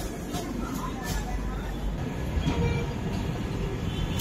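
Steady rumble of a moving train carrying motorcycles in its last coach, heard from inside a carriage near Nagpur, with a continuous low drone and faint voices in the background.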